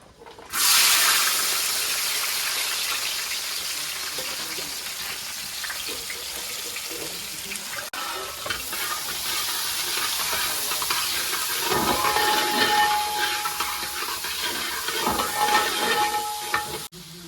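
Sliced onions drop into hot oil in an uruli for a beef roast, setting off a loud, steady sizzle and crackle that continues alone for the whole stretch.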